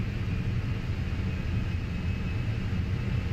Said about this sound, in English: You can hear the jets roaring.